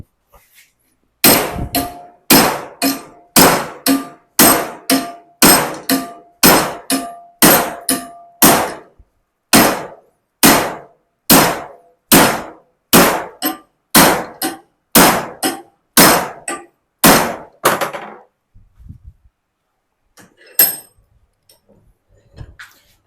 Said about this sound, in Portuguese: Eu entortei a barra de 8 milímetros e a solda perfeita.